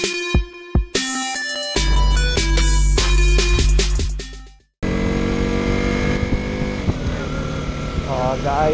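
A KTM Duke 125 motorcycle drones steadily on the move, its revs climbing toward the end. A voice talks over the engine, and a burst of loud music comes before the riding sound.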